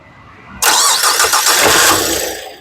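A 2015 Nissan Sunny XV sedan fires up on a single crank after a quiet pause, catching abruptly with a loud whir that settles into a steady idle, no voices present.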